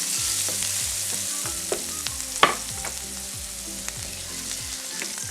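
Onions fry in a pan of flavored oil left from cooking oyster mushrooms, giving a steady close sizzle with light stirring scrapes and a sharper clack partway through.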